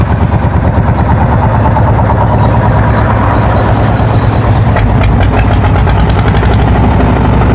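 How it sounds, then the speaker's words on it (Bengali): A fishing trawler's engine runs on the Meghna river, a loud, steady, rumbling idle with a continuous low throb that fills the whole stretch without pause. "আমাদের জেলেদের ট্রলারটি কিন্তু স্টার্ট করছে"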